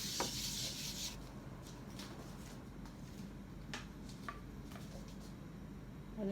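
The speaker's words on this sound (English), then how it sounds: "I have some oil on the tissue, and there I will just rub it." An oiled tissue is rubbed over a pancake pan, giving soft, close dry rubbing and wiping strokes with a few light scrapes, fairly quiet throughout.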